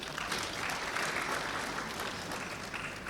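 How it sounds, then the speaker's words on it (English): Audience at an awards ceremony in Kenya applauding with dense, steady hand clapping throughout, moderately close and without talk. "We can give a hand clap to that."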